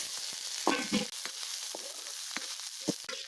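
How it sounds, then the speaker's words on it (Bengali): Onions frying in oil with whole spices such as cinnamon, cloves, cardamom and cumin, a continuous close sizzle broken by a few stirring scrapes and taps. "পেঁয়াজগুলো একটু লাল লাল করে নিব ভাজা"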